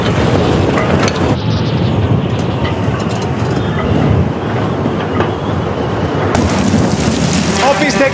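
Steady heavy rain and storm rumble fill a night scene in a film, a dense continuous wash of noise with low thunderous undertones, loud and unbroken throughout.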